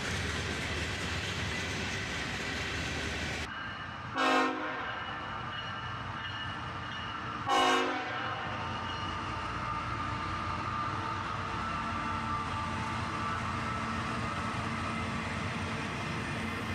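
Freight train led by an EMD SD70 Mac locomotive rolls past, a loud continuous roar of wheels and engine with two brief horn-like surges, steady and close.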